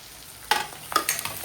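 Onions sautéing in a pan in a home kitchen, with a low background sizzle broken by a few scraping stirs of the spatula that come and go over a second and a half.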